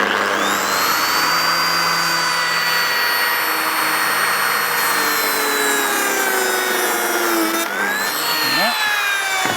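A ZetaP2 joiner cuts a slot into wood with a steady, high-pitched motor whine and a rasping cut that holds evenly, then the motor winds down near the end.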